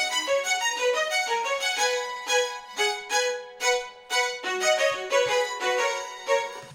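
Session strings play layered harmony lines in a pop production track, sustained bowed chords with rhythmic swells and note changes, clear and full with no voices.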